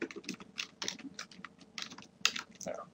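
Quick, uneven bursts of keystrokes on a computer keyboard as text is typed, close and quiet, with short pauses between clusters of clicks.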